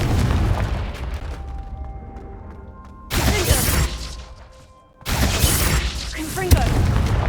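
Confringo blasting spells explode in Hogwarts Legacy, two loud, broad bursts of blast noise rising out of a busy game soundscape with music and spoken spell incantations running underneath.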